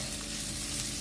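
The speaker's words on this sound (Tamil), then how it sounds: "கொஞ்சமாக சால்ட் போட்டுக்கிறேன் வெங்காயம் வதங்கிறதுக்காக." Onions sautéing with salt in a pan for chana masala gravy, a soft continuous sizzle with faint stirring, quiet and close.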